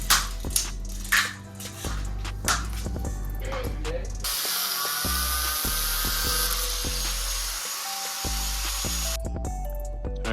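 Cutting a piece for a budget DIY aero kit on a Mitsubishi Lancer Evolution X: sharp mechanical clicks and knocks, then a steady, loud rasping cut lasting several seconds before more tapping handling noises.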